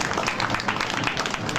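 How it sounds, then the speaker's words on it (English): A crowd at a G20 panel Q&A at a street festival applauds a panelist, steady dense clapping at moderate loudness throughout the short stretch with no pauses. "Big round of applause for Don."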